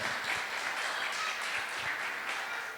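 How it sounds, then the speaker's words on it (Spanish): Congregation applauding at a church service, a sustained dense wash of clapping from many hands at a moderate distance, without a break. "Dele un aplauso pues al Señor."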